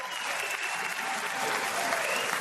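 An audience applauds at a live show, a dense, continuous wash of clapping from a crowd heard at moderate distance without pause.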